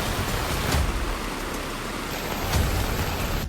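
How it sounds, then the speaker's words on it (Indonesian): Heavy rain pouring down on a riverside shelter site while a roof is being put up, a dense, steady roar of rainfall close by with no voices. "Diguyur hujan deras saat proses pemasangan atap shelter."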